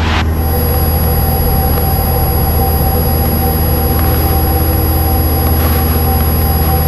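Loud, steady engine drone of a light training aircraft during its takeoff roll, a constant low rumble with a high tonal whine, heard from inside the cabin with no talk.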